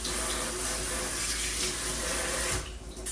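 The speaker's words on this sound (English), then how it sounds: "I'm going to rinse my hands off so that I can pick up the one that's finished." Tap water runs steadily over hands being rinsed at a sink for under three seconds, fairly close, then cuts off abruptly.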